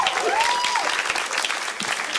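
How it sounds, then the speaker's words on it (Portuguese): An audience claps in sustained applause for Bruno at a Portuguese-language church talk on fatherhood, a dense wash of hand claps with a brief whistle-like tone near the start. "Uma salva de palmas para Bruno."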